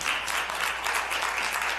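Audience applause at a community kickoff meeting for a new elementary school, a dense, steady patter of clapping from a room of people, filling the short moment on its own.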